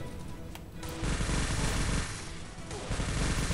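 Dense, loud gunfire fills a 4v4 team shooter match, with a DM marksman rifle among the weapons. Rapid overlapping shots crack in sustained bursts over a thick, rumbling battle din.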